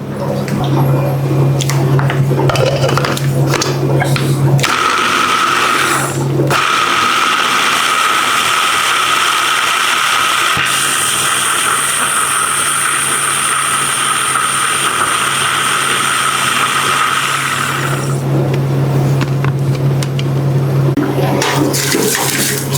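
Garlic and oil whirl in a food processor or blender, a loud grinding motor whine that starts, runs steadily and then stops, with rattling between bursts.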